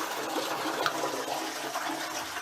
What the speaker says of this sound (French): Ce sac, une fois rempli, permet aussi d'utiliser moins d'eau dans les toilettes chaque fois que l'on tire la chasse